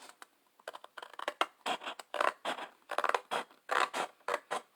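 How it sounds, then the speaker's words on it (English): Scissors cut paper along a score line for a scrapbooking pocket flip album, a quick series of close, crisp snips coming in uneven bursts with no talking. "I'm just going to cut on the very edge of the score line."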